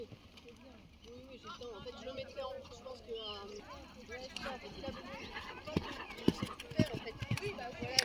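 A horse trotting during a riding lesson, rhythmic hoof clip-clops growing clearer and louder toward the end, under an instructor's voice giving directions.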